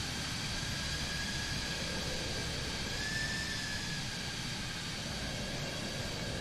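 Aircraft flying past on a runway at a US Air Force base in Microsoft Flight Simulator, a steady broadband jet roar with a faint whistling tone, fairly quiet and unchanging throughout, with no voices.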